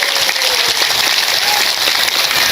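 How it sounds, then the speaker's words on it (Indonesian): Audience applause fills a religious talk in Indonesia, a steady dense wash of clapping that runs evenly throughout the clip with no speech on top. "Tepuk tangan dingin kok."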